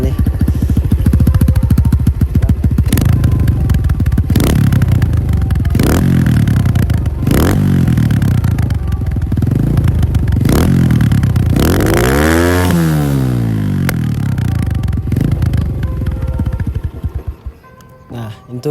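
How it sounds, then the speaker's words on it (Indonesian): A CMX 125cc mini trail motorcycle's engine is heard up close, idling, then revved repeatedly with rising and falling exhaust bursts, including one long sweeping rev, before dropping off near the end. "Nah, itu suara motornya."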